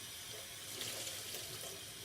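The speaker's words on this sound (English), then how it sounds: "let the water rinse it out, and I'm going to squeeze." Tap water runs steadily over dyed skating tights as they are rinsed in a sink: a constant close splashing hiss with no pauses and no voices.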